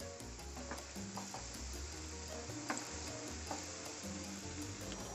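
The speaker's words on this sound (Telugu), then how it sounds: "ఇట్లా మంచిగా క్రిస్పీగా కాల్చుకోండి మన పొటాటోని." Potato pieces frying crisply in hot oil in a pan for potato manchurian, a steady close sizzle with crackles and small pops, continuous and alone without talk.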